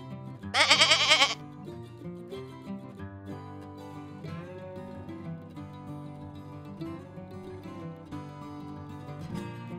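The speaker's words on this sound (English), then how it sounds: "Goat." A goat bleats loudly in one quavering burst near the start, followed by a steady bed of soft background music with no further animal calls.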